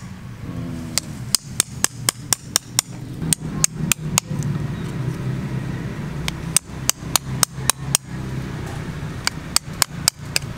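Sharp, repeated hammer strikes in quick bursts as a chisel is driven into wood while shaping bonsai stock, with short pauses between each run of blows.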